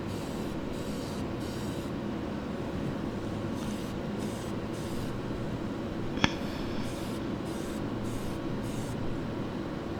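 A spray gun lays down 2K automotive clear coat with a steady, soft hiss of atomized spray, heard close and alone, broken by a single sharp click partway through.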